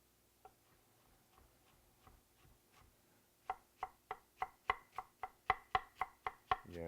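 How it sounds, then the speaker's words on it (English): Knife chopping an onion into small pieces on a board, a few scattered taps at first, then a fast even run of about a dozen crisp chops growing louder, close and with no talk. "I'm going to cut it as small as I can cut it"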